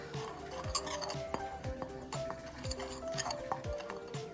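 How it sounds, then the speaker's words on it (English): Spices such as chili powder and black pepper quickly stirred in a bowl for fried chicken, a run of light rhythmic scraping and clinking strokes against the bowl, close and fairly quiet. "And just a quick mix."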